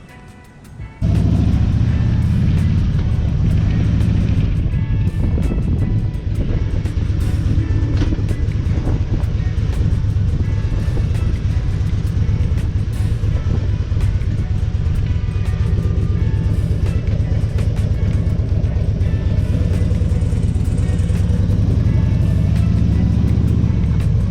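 Loud, steady wind roar and engine rumble from a Road King motorcycle riding behind its windshield, a constant broadband rush that runs almost unbroken for the whole stretch after a brief quieter start.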